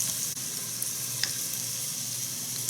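Three cloves of minced garlic sizzle in a pan with onions, a steady close frying hiss with a few faint stirring clicks and no talking.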